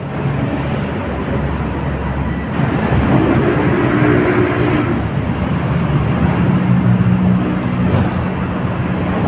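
An LRT train rumbles past near Quezon Bridge in Manila, a steady low roar swelling over continuous city traffic noise for several seconds, moderately close.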